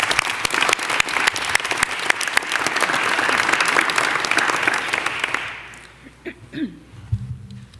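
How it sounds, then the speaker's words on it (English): A gathering at a New York mayoral announcement on public housing gives a round of applause, crisp dense clapping that fades out after about five seconds, followed by quieter room sounds and a voice. "Let's give them all a round of applause."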